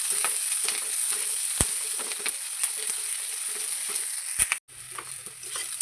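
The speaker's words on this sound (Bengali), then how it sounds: "এবার দেবো পেঁয়াজ, রসুন কুচি, লঙ্কা কুচি সব একসঙ্গে, এটা এবার ভেজে নেবো" Chopped onion, garlic and chilli fry in a pan with a constant bright sizzle, punctuated by scattered clicks and a couple of sharp spatula knocks, then a brief drop before the sizzle returns; no voices.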